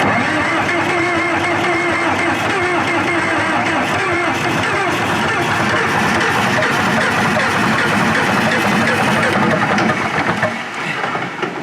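A 1980s bulldozer engine idles after an oil change, a loud, steady diesel rumble with continuous mechanical clatter heard up close, holding even for most of the stretch before dipping slightly near the end.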